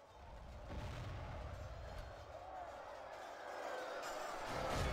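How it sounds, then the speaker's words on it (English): Catapult barrage in the fantasy battle game Medieval 2: Total War, Third Age mod, a steady roar of siege impacts and distant crashing rumbling through the whole stretch and swelling louder near the end. "Hopefully before the catapult kills you all"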